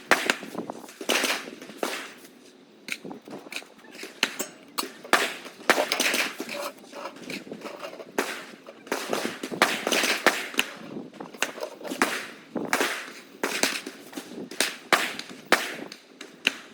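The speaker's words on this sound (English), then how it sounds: "I feel like these gunshots might be really annoying you" Rapid, irregular gunshot-like cracks and pops outside, dense and continuous over many seconds, some sharp and near, others fainter and overlapping, with no talking.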